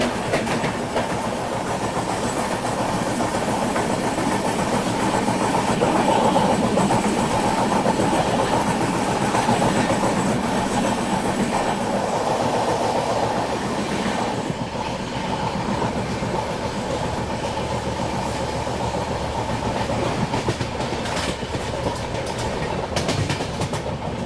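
Steady, loud rumble and rattle of the Hazrat Nizamuddin–Mumbai CSMT Rajdhani Express 22222, heard from inside a moving coach, with continuous wheel noise and faint clicks over the rails and no talking.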